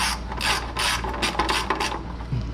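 A ratchet wrench tightens oil pan gasket bolts on a 1976 Corvette, giving steady rasping clicks in several strokes, close and fairly loud, with no voices.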